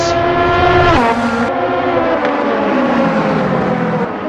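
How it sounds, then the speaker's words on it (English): Race car at full speed down the main straight at Sebring during an 80-minute international race, a loud sustained engine roar with harmonic tones dropping in pitch as it passes close. "Evans now barreling down to the main straight, past the stricken cars"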